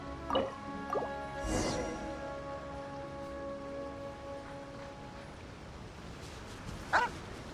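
Dogs in a Genshin Impact video game cutscene give a few short, faint barks and yips early on and again near the end over a quiet ambient background with light dripping sounds.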